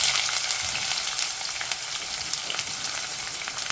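Onions fry in hot oil with urad dal already browned in the pan. The close, even sizzle is fairly loud, with dense crackling throughout and a slight easing near the end.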